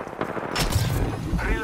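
Apex Legends gunfire, close and loud, with a burst of shots cracking out after a brief lull and staying dense to the end, mixed with game noise.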